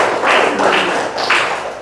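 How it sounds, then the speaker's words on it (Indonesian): A small classroom group claps briefly, a soft patter of hands in a few loose bursts, close by. "Tepuk tangan buat Azki"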